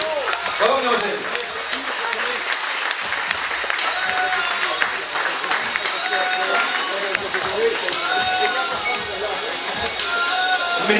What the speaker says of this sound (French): c'est Sylvana, on l'applaudit très fort